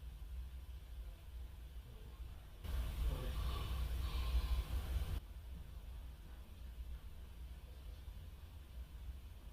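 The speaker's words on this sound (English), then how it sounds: "Sounds like somebody breathing," A recording made at 30 East Drive in Pontefract holds a faint breathy, out-of-breath sound, a hushed rasp lasting about two and a half seconds against a low steady background hiss.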